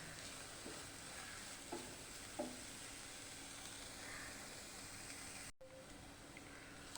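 Vegetables for samosa filling sauté in a pan with a quiet, steady sizzle and hiss, and a few faint clicks of stirring.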